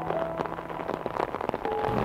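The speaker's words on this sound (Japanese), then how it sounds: "大雨の中 いや今日はね雨で残念だったね" Steady heavy rain pattering on a surface outdoors along Hokkaido's Japan Sea coast, a dense hiss with scattered louder drops, no voices.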